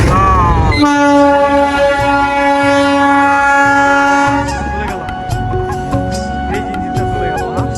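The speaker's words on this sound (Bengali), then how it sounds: "এই ইঞ্জিনটাই কিন্তু খুলে নিয়ে আসছে" A train engine arriving at a Bangladeshi station on the Faridpur–Kalukhali line to be coupled, sounding a loud, sustained multi-tone horn for several seconds before rumbling and clanking steadily nearby.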